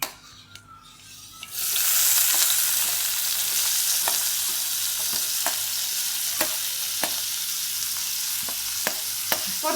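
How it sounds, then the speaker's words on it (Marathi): Mixed vegetables hitting hot oil with cumin, mustard seeds and turmeric, a sudden loud sizzle that settles into a steady fry, punctuated by regular clicking spoon strokes as they are stirred, with no speech. "आता जिरे, मोहरी, थोडीशी हळद, तस भाज्या टाकून घेऊ सगळ्या आपण."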